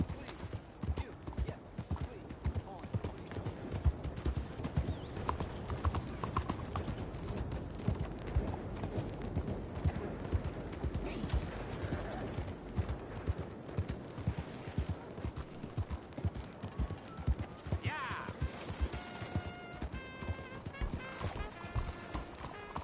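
Horse hooves clip-clop at a steady trot in Red Dead Redemption 2, a continuous rhythmic patter with creaking tack, while voices talk faintly over it.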